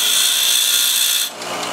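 Power grinder held against a magnetic steel knife, a loud, steady high whine of grinding that cuts off abruptly near the end.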